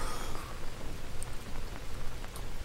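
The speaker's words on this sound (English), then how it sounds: "and it's raining. It wasn't raining last time." Steady rain pours in the jungle survival game Green Hell, a dense even hiss with occasional louder drops, with no voices over it.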